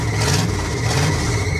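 Engine of a ramp truck revving after a cold start, a loud, close, steady mechanical roar held for a short burst with no talking.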